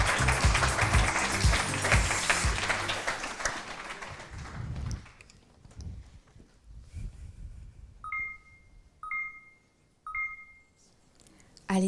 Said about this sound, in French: on l'applaudit très fort pour l'encourager